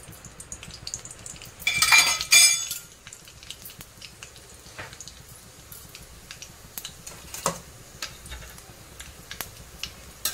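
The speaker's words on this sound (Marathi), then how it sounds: "चांगलं तडतडून द्यायचं." Cumin and mustard seeds hit hot oil in a heated kadhai with a loud sizzling burst, then settle into sparse crackles and pops, close by with no voices.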